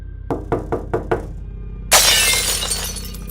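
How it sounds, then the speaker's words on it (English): Five quick, sharp knocks hit glass in an even rhythm, then after a short pause a kitchen window shatters in a loud, bright crash that trails off in scattered tinkling. "There was this quick and sudden loud bang on the glass, followed by a window in the kitchen completely shattering."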